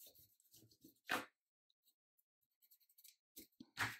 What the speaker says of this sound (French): Mettre un petit coup de plioir quand même pour bien faire adhérer la colle.